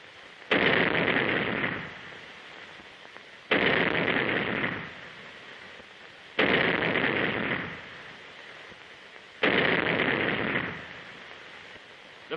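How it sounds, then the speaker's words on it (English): Four heavy blasts from a naval 3-inch gun fired in quick succession by Coast Guard cadets, in 1935 film audio. Each is a loud, broad boom about three seconds apart with a fading rumble tail, and no voices. "The cadets demonstrate their proficiency by firing the 3-inch gun in record time."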